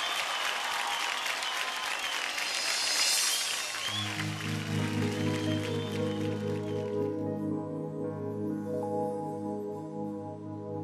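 Audience applause for a singer at a live Indian Idol 12 television performance, a dense wash of clapping that fills the first few seconds before music with a sustained melody rises and takes over.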